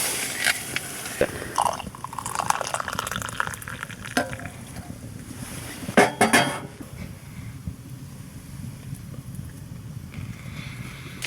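Hamburger meat fries in a pan inside a DIY hot tent on a winter overnight trip, a steady close sizzle with scattered scrapes and clanks of stirring and cookware throughout.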